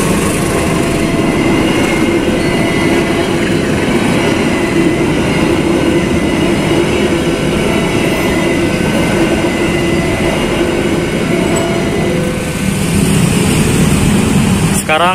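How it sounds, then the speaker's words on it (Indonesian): A train rolls past the railway level crossing at Simpang Joglo in Solo, Indonesia, producing a loud, close, continuous rumble of wheels and rail clatter that lasts throughout. "kebetulan ini ada kereta yang lewat"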